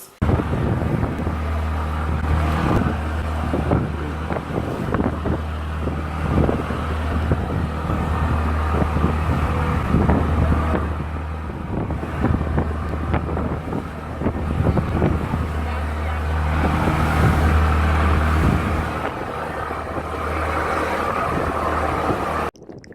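A steady low engine drone runs throughout, with wind buffeting and rushing water over it, like a motorboat cruising on the open ocean near Wasini Island, Kenya.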